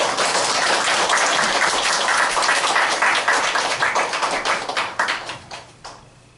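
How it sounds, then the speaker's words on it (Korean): A church congregation claps together in sustained applause that gradually thins out and fades to a few scattered claps at the end. "한번 우리 따뜻한 박수로 찬양하시겠습니다"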